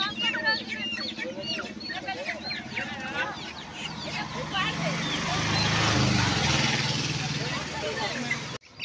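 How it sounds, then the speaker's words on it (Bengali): Australian roosters and hens at the Uluberia hen market in West Bengal cluck and squawk in busy, overlapping bursts close by, while someone talks over the noisy crowd in the background. "বন্ধুরা দেখুন এখানে অস্ট্রেলিয়ান মোরগ রয়েছে 200 টাকা কেজি"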